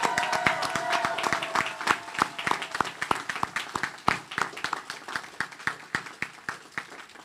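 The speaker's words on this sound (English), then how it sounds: "One more round of applause for all of them." Audience applause at a spring college commencement ceremony for degree recipients, a crisp crowd of clapping hands that starts full and gradually thins into sparser, distinct claps near the end.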